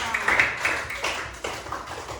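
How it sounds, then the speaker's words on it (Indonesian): A classroom of students claps their hands together, a quiet patter of overlapping claps lasting a couple of seconds and fading slightly toward the end. "Oke, kita tepuk tangan buat kalian semua."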